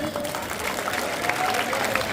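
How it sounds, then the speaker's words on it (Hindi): An audience claps at a night performance of a Ram drama by a village Rama Natak club, steady crowd applause with chatter and a voice underneath. "मैंने पहले भी कहा था कि तालियों के साथ जोरदार स्वागत करें।"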